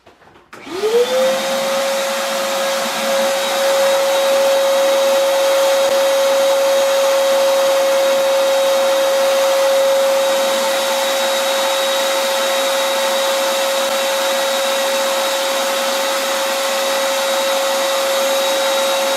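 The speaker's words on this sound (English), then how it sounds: "vacuuming up the wax so it doesn't get all over the place" A vacuum starts up and runs steadily for a long stretch, loud and close with a constant whine, sucking up melted hot glide wax scraped off backcountry waxless skis held in a homemade ski vice.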